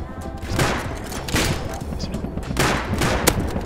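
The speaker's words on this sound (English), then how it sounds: "Shoot the heli, shoot the heli." Bursts of gunfire in the survival game Rust, fired at a helicopter: several loud, rapid volleys come in clusters over steady background game noise.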